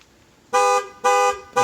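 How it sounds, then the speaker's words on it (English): A C5 Corvette's car alarm blares in three loud, short horn-like blasts, close by and evenly spaced. "That's the alarm."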